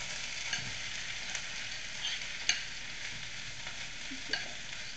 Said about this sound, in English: So now I'm getting ready to just put my spaghetti squash in.